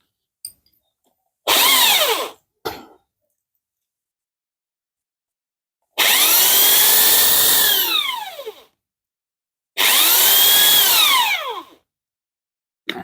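A power grinder smooths a freshly modified part while upgrading a motorcycle cylinder block, running in three loud, separate bursts of whining grind, each lasting a couple of seconds with a falling pitch as it spins down, with silence between them.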